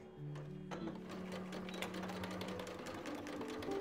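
A sewing machine running a steady straight stitch down linen trousers, a continuous fast mechanical whir with rhythmic clatter, close and even throughout.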